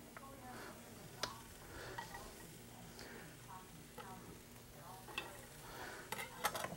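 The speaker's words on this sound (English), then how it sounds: "Now we're going to put the celery in the pan. Oh, that's a sizzle." Celery fries with a steady sizzle, crackling in a hot pan with occasional sharp clicks and stirring taps, a quiet voice speaking faintly underneath.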